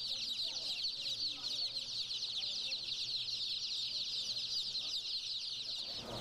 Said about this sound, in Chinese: 我看到可爱的小鸡耶